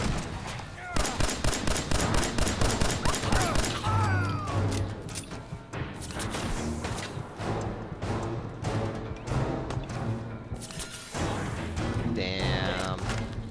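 Rapid gunfire in Fallout 4 as bandits are fought at the Corvega assembly plant, with dense bursts of shots and crashing impacts running throughout, over a constant game soundscape.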